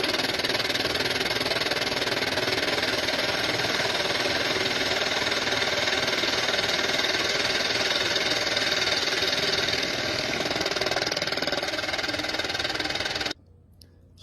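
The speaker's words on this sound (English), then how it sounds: "I can come in here and reface this surfaces right here that hold the valve." A valve grinder refaces valve seat surfaces with a loud, steady grinding whir that runs unbroken for about thirteen seconds, then cuts off abruptly.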